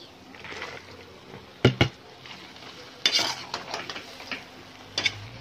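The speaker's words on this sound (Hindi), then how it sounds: "अब इसमें भिंडी और आलू डाल देंगे।" Okra and potatoes tumble into hot sizzling masala in a pan, giving a couple of sharp clattering drops followed by a burst of frying hiss and light stirring scrapes, close and fairly quiet.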